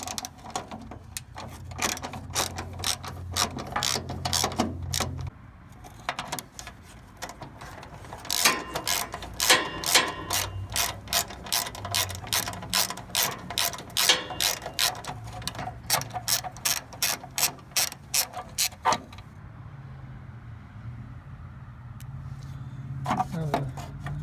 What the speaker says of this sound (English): Use a 3/8" socket to remove the three bolts.